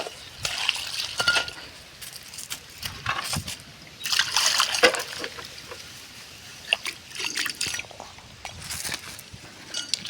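A pigeon's water bowl is tipped out and emptied, with close splashes, short trickles and pouring, plus a few hard clinks of the bowl, coming in bursts over about ten seconds.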